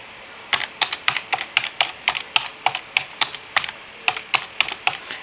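Typing on a computer keyboard: a steady run of sharp, close plastic key clicks in quick uneven bursts, with no voices.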